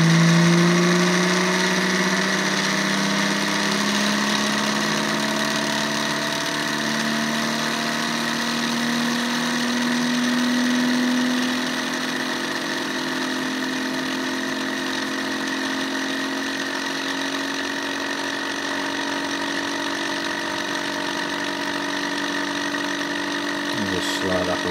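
An energy expansion generator machine running with its rotor fitted, giving a steady mechanical hum with layered tonal whines, one pitch sliding slowly upward as it spins up, loud and continuous with no speech.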